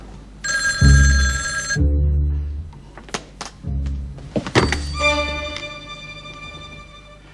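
An old-style telephone bell rings loudly in two long bursts, with heavy thuds and clunks between them.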